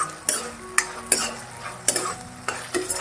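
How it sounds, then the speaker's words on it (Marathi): Cabbage manchurian stir-fried over a high flame, a steady sizzle broken by sharp scrapes and clanks of a spatula against the pan every half second or so, close and fairly loud with no voices. "गॅस चांगला मोठा करून हे परतून घ्यायचे."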